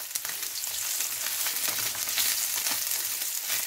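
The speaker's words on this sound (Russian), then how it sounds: "Мы обжарили рыбу с одной стороны до румяной корочки." Trout fries in a pan with a steady, dense sizzle of spitting oil. Small crackles and pops run through it, close and constant, and no one speaks.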